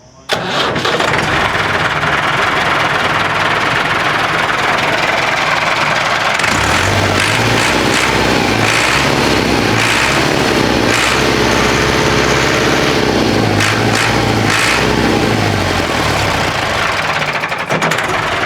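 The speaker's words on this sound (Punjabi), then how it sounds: "ਲਓ ਜੀ ਦੋਸਤੋ ਆਵਾਜ਼ ਚੈੱਕ ਕਰੋ, ਟਰੈਕਟਰ ਦਾ ਸਾਊਂਡ ਚੈੱਕ ਕਰੋ" A modified 1979 Fiat 640 tractor fitted with a six-cylinder engine starts and settles into a loud, rough, continuous running rumble, heard up close with throttle changes and no clear talk.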